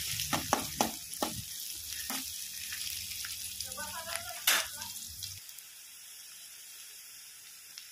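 Onion and garlic frying in a pan for ridge gourd bhaji, a soft sizzle with several sharp spoon taps and clinks early on, then fading to a faint hiss near the end, quiet and with no clear talking.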